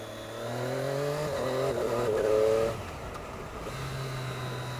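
A Triumph Daytona 675R sport motorcycle accelerates hard using its quick shifter, its engine pitch climbing and then dropping sharply at a shift before settling into a lower drone, heard from the rider's position.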